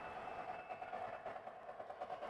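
Model train with steel reefer cars rolling across a bridge, a steady, moderately quiet running rumble with faint rhythmic clatter throughout, no voices.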